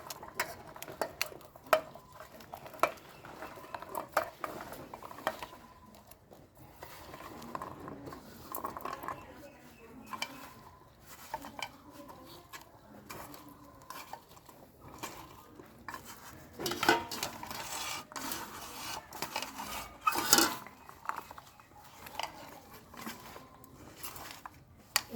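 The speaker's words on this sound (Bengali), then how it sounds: "এবার আমি একটা পাত্রে, বড় পাত্রে এটাকে মেখে নেব" Chicken is worked by hand into its marinade in a large bowl, giving irregular squelching, patting and scraping against the vessel with occasional sharper clinks, moderately close.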